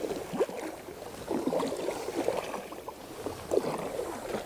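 A kayak paddle sculls back and forth in a draw stroke, producing soft, rhythmic swishes and light water gurgles at close range against a faint outdoor background, with no speech.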